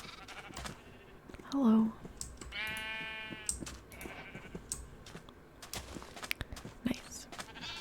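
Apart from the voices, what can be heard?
sheep bleating in the video game Minecraft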